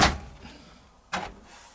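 A Samsung Series 5+ 9kg washing machine door is pulled open by its handle, an initial thud followed by a sharp latch click and release about a second later, close and fairly quiet.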